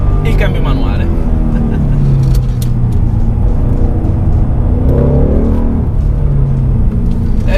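Ford Mustang 5.0 V8 with manual gearbox accelerating hard, wheels briefly slipping; a deep, steady engine roar runs throughout at high level while someone talks over it.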